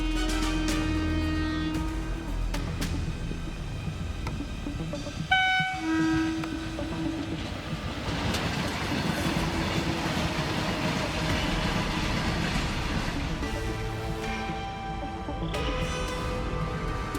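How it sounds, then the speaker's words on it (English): An Indian Railways WDG-3A diesel locomotive rumbles past with rattling wheels and clanking cars, and its horn blares briefly partway through over a constant heavy roar. "was struck by the KJM WDG-3A 1330 train on the Shimoga-Bangalore route"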